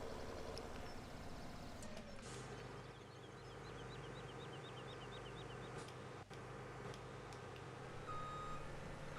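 Trailer reversing beeps in a farming video game: a steady train of short electronic beeps over a continuous engine drone, moderately loud and unbroken by speech.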